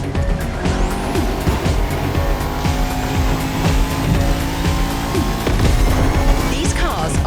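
Racing cars roar through The Crew Motorfest, loud continuous engine howl with shifting revs, tire squeal and skids, close and dense throughout, with a voice speaking over parts of it.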